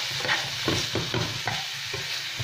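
Fried rice stir-fried in a pan, with loud continuous sizzling and repeated scraping strokes of the spatula at a quick, uneven rhythm, close by and without speech.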